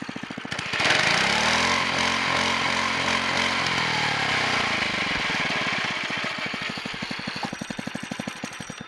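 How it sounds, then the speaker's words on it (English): A Baja DB30 Doodle Bug mini bike with a 2.8 hp engine revs hard and holds near redline, a loud, steady buzzing drone that eases off toward the end into a pulsing idle. "That is the Baja DB30 dirt bug, doodle bug, mini bike thing."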